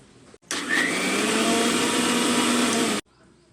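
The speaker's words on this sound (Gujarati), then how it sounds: "પલાળેલા આ ચોખા છે એને આપણે અલગથી મિક્સરની જારમાં પીસી લેશું।" A kitchen mixer grinder grinds soaked rice in its jar, starting abruptly into a loud, steady whirring roar that runs about two and a half seconds before cutting off sharply.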